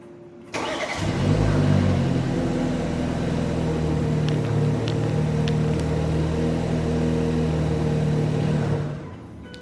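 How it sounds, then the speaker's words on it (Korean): A BMW car engine started remotely with the key fob cranks and catches after about half a second. It flares briefly, then settles into a steady, close idle that runs until it cuts off near the end. "세 번을 누르면 시동이 켜지고 세 번을 누르면 시동이 꺼지고"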